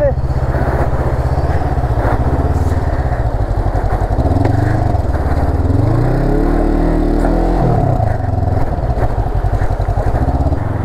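A motorcycle rides through fast-flowing water on a rain-hit mountain road in Nepal, its engine loud and close, rising and falling through revs across the whole stretch, with voices speaking over it.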